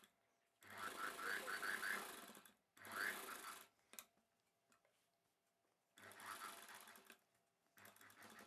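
Sewing machine stitching a blouse piece in bursts of rapid, close mechanical clatter, three longer runs and a short final one, separated by near-silent pauses.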